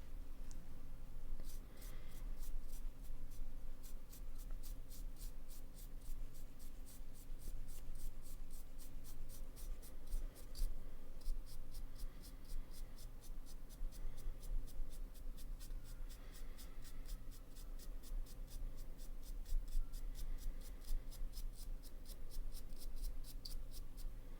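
Wet paintbrush strokes worked across the flesh areas of a Deathguard Defiler miniature, a steady run of soft, rapid scratchy brushing that continues evenly throughout over a low background hum.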